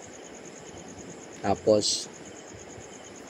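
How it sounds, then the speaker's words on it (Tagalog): Crickets chirp at a riverside campsite at night, a steady faint high trill running under a brief nearby spoken word. "Dito sa banda dito maririnig mo yung kuliglig."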